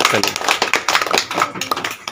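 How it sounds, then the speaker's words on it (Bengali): Students in a classroom clap their hands in a quick, uneven burst of close applause lasting a couple of seconds, with voices mixed in. "হাততালি।"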